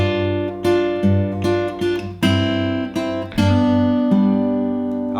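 Acoustic Delta blues guitar plays one full measure that combines a thumbed bass note with rhythm and lead lines, giving loud, ringing plucked notes in a steady four-beat pattern.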